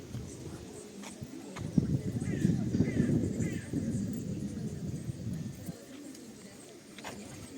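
Pigeons coo nearby in low, throaty murmurs that swell in the middle and then fade, with faint chirps and rustles around them.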